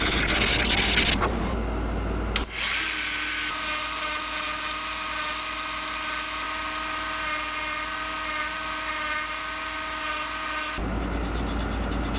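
Steady mechanical whirring of a power sander smoothing a wooden fishing lure, running continuously with a high whine, close by, starting and stopping abruptly with no talk.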